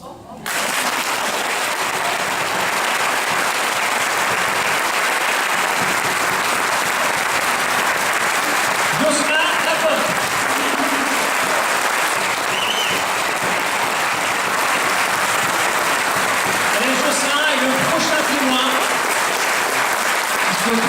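Sustained audience applause at an evening show, loud and steady for about twenty seconds, a dense wash of clapping from a packed, standing-room crowd with a few brief louder bursts along the way.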